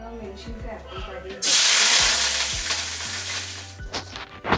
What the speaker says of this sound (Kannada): ಈಗ ಬಾಣಲಿಗೆ ಎಣ್ಣೆ ಹಾಕೊತಾ ಇದ್ದೀನಿ ಆಲ್ಮೋಸ್ಟ್ ಚಿಕನಲ್ಲಿ ಎಣ್ಣೆ ಬಿಟ್ಕೊಳುತ್ತೆ